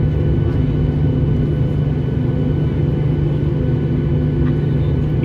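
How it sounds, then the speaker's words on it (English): A Southwest airliner takes off at an airport, heard from inside a waiting plane as a loud, steady low rumble of engine roar and cabin vibration that holds evenly throughout. "Southwest taking off"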